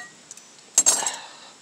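A utensil clinks and scrapes inside a camping pot of hot water at a campsite, a short burst of metallic stirring after a few faint taps, close and fairly quiet.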